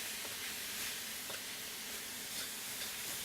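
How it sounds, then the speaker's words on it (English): Pork sizzles in a hot wok with garlic oil and ginger, a steady, soft frying hiss that holds evenly throughout with no talking. "So I've just added my pork in here with the garlic oil"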